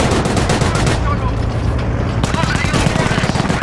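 Sustained battlefield gunfire from the Company of Heroes strategy game, with dense overlapping rifle and machine-gun bursts and booms filling the whole stretch at a steady, loud level.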